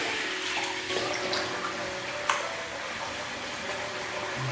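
Tap water runs steadily while something is rinsed off during a goat's milk soap wet shave, a broadband hiss with one brief splash partway through and no talking.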